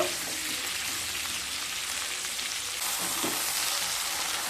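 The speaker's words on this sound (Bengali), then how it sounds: "লাউগুলোকেও হালকা ভেজে নেব।" Pieces of bottle gourd fry lightly in a pan, giving a steady, close sizzle throughout with a few soft stirring sounds and no voices.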